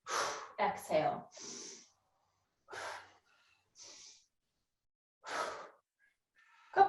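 During an exercise class a person breathes in and exhales in separate soft puffs and sighs, short and close, with quiet gaps between breaths.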